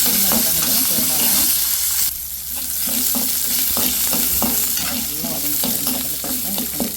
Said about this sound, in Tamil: இப்போ பூண்டு, இஞ்சி, தேங்காய் 3 சேர்த்துக்கிறேன். சேர்த்துட்டு அது நல்லா வதக்கி விட்டுடலாம்.